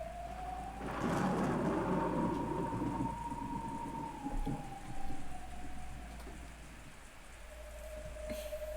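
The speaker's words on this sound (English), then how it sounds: "A large bolt of lightning lit up the surrounding area for an instant" Steady rain pours with a deep thunder rumble building and rolling for several seconds, then fading back to rain. A thin high electronic tone runs across most of the stretch.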